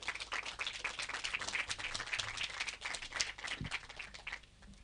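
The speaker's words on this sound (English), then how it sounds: "Let's give them a warm round of applause." An audience claps for speakers on stage at a regenerative farming talk, producing a fairly faint, continuous crackle of many hands for a few seconds with no voices.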